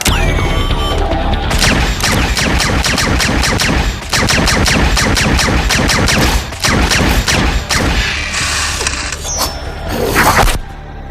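A sustained burst of gunfire rings out, loud and close, as rapid repeated shots and mechanical clatter run almost continuously for about ten seconds, with only brief gaps.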